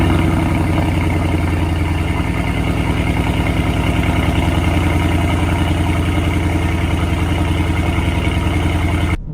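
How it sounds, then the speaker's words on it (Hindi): A Mercedes eight-cylinder engine idles with a loud, steady, deep rumble, close up and continuous, with no voices over it. "अब मर्सिडीज के 8 सिलेंडर का साउंड सुनो।"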